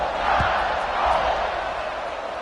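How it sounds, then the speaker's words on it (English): A college football stadium crowd buzzes steadily after a score in an Oregon versus Alabama game, a broad, loud roar of distant voices with no clear peaks. "this crowd is buzzing after that last score"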